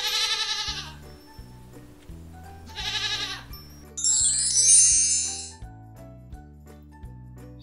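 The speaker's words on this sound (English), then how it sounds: "Goat." A goat bleats twice, a few seconds apart, over a gentle repeating musical backing, followed by a bright chiming jingle.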